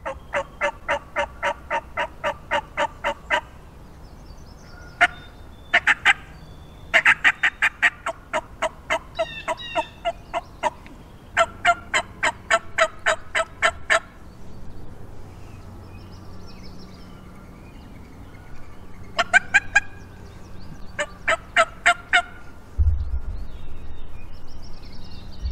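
Wild turkeys gobble in repeated bursts during spring in New Hampshire, several rapid rattling calls spaced apart over a steady outdoor background, fairly close and loud.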